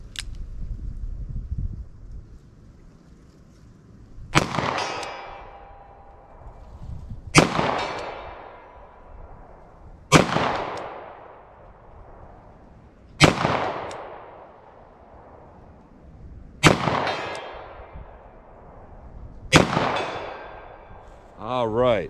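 A pistol fires Blazer Brass hollow point rounds, 10mm and 9mm, at 14 yards: about seven loud, sharp single shots spaced roughly three seconds apart, each with a ringing decay.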